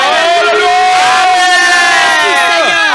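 A church congregation gathered for Sunday prayer acclaims and cheers together, many voices shouting and whooping loudly in overlapping, rising cries.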